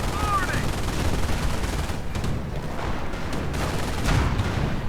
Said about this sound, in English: LegioXroma going for a lot of MG bunkers